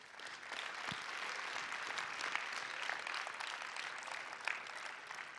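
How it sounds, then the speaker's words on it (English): Conference audience clapping in a large hall, a dense, even wash of applause that holds steady throughout. "Let's give them applause."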